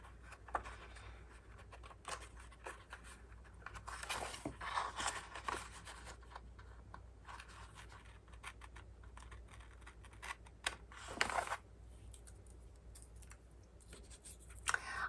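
Quiet, soft scraping and light crisp cuts as a creative journal page is trimmed, with scattered small clicks and a couple of slightly louder snips over a low steady hum.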